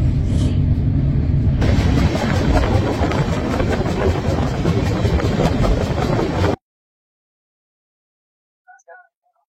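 An express train rumbles steadily along the rails, loud and close, with rhythmic clatter, then cuts to silence except for a brief faint noise near the end.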